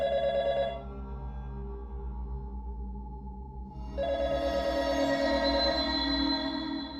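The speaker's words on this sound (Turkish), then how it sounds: "telefon çalıyor." A telephone rings with a steady electronic trill, pausing briefly before ringing again, clear and close with no talking.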